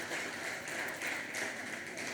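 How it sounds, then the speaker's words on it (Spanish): Church congregation applauding after a prayer, a dense continuous wash of clapping from many hands, steady and fairly loud throughout with no talk. "Dale un fuerte aplauso a nuestro Dios."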